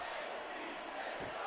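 Wrestling arena crowd in WWE SmackDown vs Raw 2006 at WrestleMania, a dense, steady roar of jeering voices filling the hall at constant loudness without a break.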